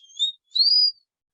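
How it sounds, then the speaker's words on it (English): Two short rising whistles from a person, one brief and one longer, clear and close with no other sound. "I love that whistle."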